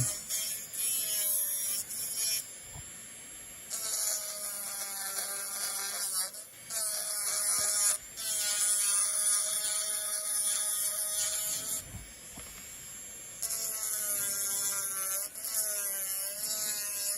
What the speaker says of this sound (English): this is how I always start off my shaping, with my extra coarse sanding band